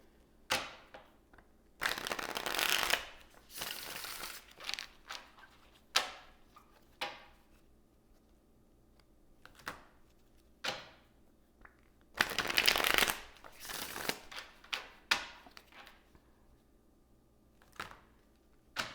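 An Osho tarot card deck being shuffled in repeated bursts of riffling and snapping card noise, some loud and dense, others brief, with quiet gaps between them and no talking.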